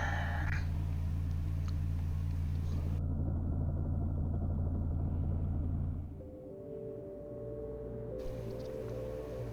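An airlock cycling in the video game SIGNALIS: a steady heavy mechanical rumble and hum that drops to a lower, quieter drone partway through, with no speech.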